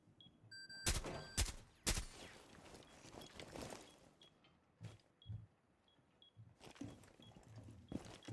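Gunfire in Rainbow Six Siege, with a few loud sharp shots early on followed by quieter scattered bursts and clatter at middle distance.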